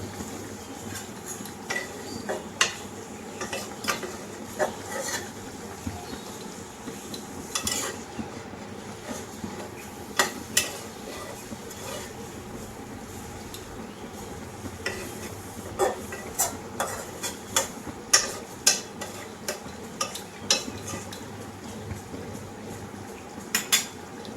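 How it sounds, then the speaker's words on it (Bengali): A spoon or spatula stirs darka fish curry in a metal pan, producing repeated sharp clinks and scrapes over a soft bubbling sizzle, close and fairly quiet, with no speech. "ধনেপাতা কুচি আমি ছড়িয়ে দিয়ে একটু নেড়ে দেবো।"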